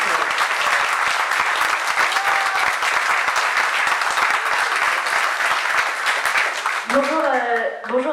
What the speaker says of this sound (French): Et un petit tonnerre d'applaudissements parce qu'elle s'est vraiment pris du temps pour venir me rejoindre.